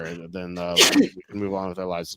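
One short, sharp sneeze bursts out in the middle of a man's speech, close and loud, with talking continuing right after.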